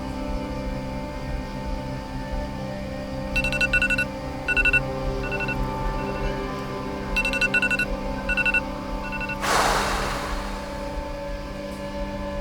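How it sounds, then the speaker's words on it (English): A phone's 15-minute timer alarm goes off in short clusters of rapid electronic beeps, separated by pauses, over a steady low background drone. "Timer 15 minutes."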